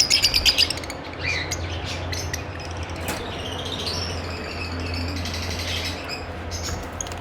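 A parblue splitino lovebird breeder pair chirps in quick sharp high tweets, scattered and irregular, over a steady low hum, near and fairly clear with no speech.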